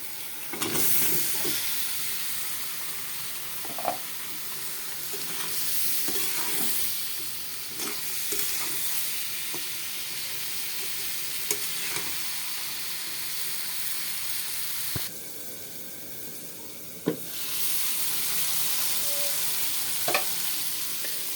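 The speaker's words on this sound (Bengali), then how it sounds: "এখন এর মধ্যে এই যে সবজিগুলো দিয়ে দেব। কাঁচা টমেটো, পাকা টমেটো, আলু, বেগুন দিয়ে দেব।" Green and ripe tomatoes, potato and eggplant frying in cooked-down spice paste, a continuous moderate sizzle and hiss with occasional stirring knocks and scrapes against the pan.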